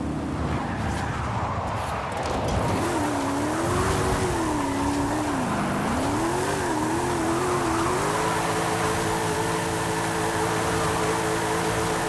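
A car drifting in Forza Horizon 5 on a steering-wheel setup, opening with a loud, noisy rush, then engine revs wavering up and down before holding a steady pitch, with tire noise under it throughout.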